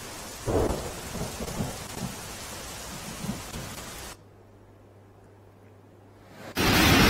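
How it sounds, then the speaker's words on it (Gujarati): Heavy rain pours steadily while thunder rumbles loudly through the first four seconds. A quieter gap follows, then the downpour returns at full strength. "તાપી જિલ્લામાં સવારથી વરસાદી માહોલ જામ્યો છે"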